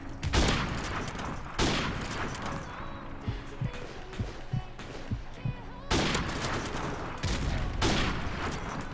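Rapid gunfire from the video game Modern Warfare, bursts of shots at the start and again near the end with quieter scattered sounds between, played loud over constant game noise.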